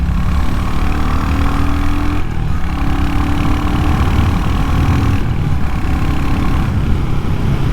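A Royal Enfield Hunter 350 motorcycle engine idles steadily, a deep even low throb with a mellow cruiser tone, close by and fairly loud throughout.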